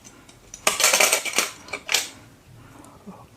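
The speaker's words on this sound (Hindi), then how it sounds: "अब हम इस प्रोसेसर को इंसर्ट कर लेते हैं इस मदरबोर्ड में।" A clicking, clattering burst of handling sounds as an Intel Core i7 processor is seated into a motherboard socket while assembling a budget gaming PC, a few close, sharp clicks and rattles over about two seconds, then quiet.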